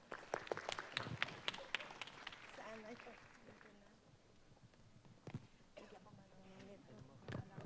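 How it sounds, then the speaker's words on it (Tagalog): A conference audience at the AGOS Summit 2017 gives a short burst of clapping that fades out within a few seconds, after which quiet speech comes in, with a few scattered claps later. "Please give a round of applause to Undersecretary Hope Hervilla."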